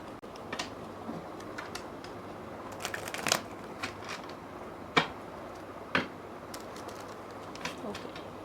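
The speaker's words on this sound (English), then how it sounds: "let's get some cards from tarot now and wrap up this read" Tarot cards are shuffled quietly, sparse soft riffles and sharp taps recurring every second or so against a faint room hush.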